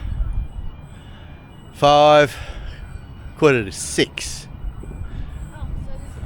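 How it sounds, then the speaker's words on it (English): A Newcastle-bound commuter train pulls into a suburban station on the Sydney–Gosford line, a steady low rumble beneath brief station announcements and a passing voice, with a short burst of speech near the middle. "here comes the Newcastle bound train now"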